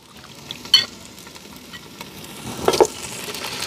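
Chicken and onions cooking over a wood stove, a soft, steady sizzle under occasional louder stirring scrapes, one near the start and a stronger clatter toward the end.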